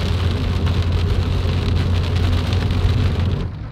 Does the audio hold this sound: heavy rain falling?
yes